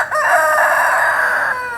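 A rooster crows loudly and close by in one long, sustained call, with a brief cluck at the start, on a homestead.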